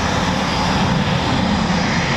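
A steady, loud roar from a Eurofighter Typhoon FGR4 jet taxiing at an RAF station, broadband and unbroken throughout, with no voices.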